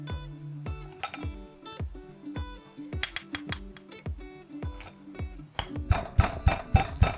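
Lemongrass and galangal are pounded into paste in a mortar, a steady series of sharp, ringing pestle strikes with clinks and dull thuds at an even rhythm, growing quicker and louder near the end.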